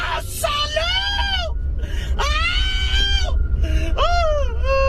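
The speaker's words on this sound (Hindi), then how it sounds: "गुल्ली बुल्ली देखते हैं कि अंदर से तो चिल्लाने की काफी ज्यादा आवाज आ रही है।" Loud, continuous cartoon screaming and wailing coming from inside a house, high shrill cries in repeated long bursts with brief pauses, filling the whole stretch.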